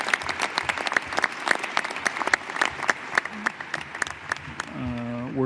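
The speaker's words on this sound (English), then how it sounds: "Could we give another round of applause to the distinguished panels that presented today?" An indoor audience at a National Space Council meeting claps steadily in a sustained round of applause, with a voice beginning to speak just as it fades.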